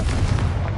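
A Confringo fire spell blast in Hogwarts Legacy, a loud, deep booming burst with a rumbling, crackling tail, close and forceful for under a second, with no voices over it.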